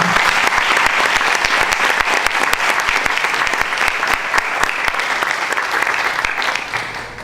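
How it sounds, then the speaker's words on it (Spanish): Loud, sustained applause from a crowd, dense clapping that carries on steadily and begins to thin out at the very end. "brindémosle un fuerte aplauso a este guerrero milenario"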